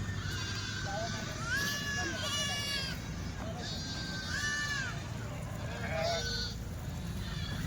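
Kathiawadi sheep bleat repeatedly at a livestock trader's pen, several wavering calls close by over a steady background murmur, with someone talking underneath.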